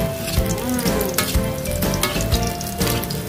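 Plenty of garlic and chili fry in a pan for ginisang munggo, a loud close crackling sizzle with bright pops and some clinks throughout.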